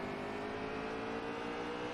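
NASCAR stock car engine in NASCAR Heat 3 at Martinsville, a steady loud droning roar with rich harmonic whine, held at high revs with no talk.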